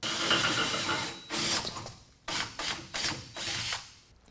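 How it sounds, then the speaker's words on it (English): Drilling a 7/16 inch hole for a track bar bracket on a 2011 2WD Dodge Ram during a MaxTrac 7-inch lift install: bursts of whirring, grinding drill noise in several short runs with brief pauses, close and fairly loud. "First, we're going to drill through with a pilot hole, then follow it up with a 7/16 inch bit"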